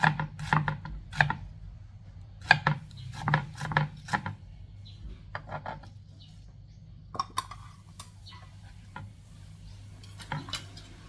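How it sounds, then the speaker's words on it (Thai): A knife slices onion on a cutting board in clusters of crisp, close chops with short pauses between bursts, quiet kitchen setting without speech. "แล้วก็ซอยหอมใหญ่ค่ะ"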